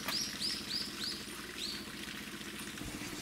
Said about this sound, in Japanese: 声しか聞こえません。